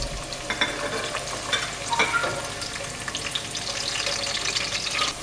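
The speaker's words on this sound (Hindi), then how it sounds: "देखिए ऑयल गरम करने रख दिया, इसके अंदर ये जो मैंने प्याज काटी थी ये डाल रही हूँ।" Chopped onions fry in hot oil for dhaba-style chana dal, a close, even sizzle with light crackles and stirring scrapes and no voices.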